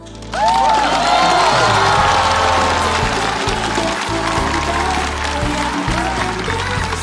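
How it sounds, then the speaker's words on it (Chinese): Studio audience at a Chinese variety show clapping and cheering to welcome a guest, dense loud applause with shouts rising quickly and holding steady throughout, with music playing underneath. "来，让我们掌声欢迎赵英子"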